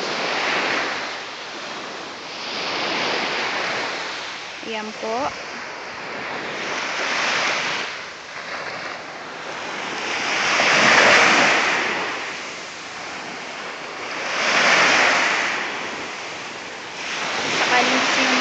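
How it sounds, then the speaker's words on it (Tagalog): Strong surf rolls onto a Boracay beach at Punta Bunga, Barangay Yapak, with waves swelling and crashing in repeated surges amid steady wind; a voice speaks briefly in between. "Kasi malakas ang alon dun."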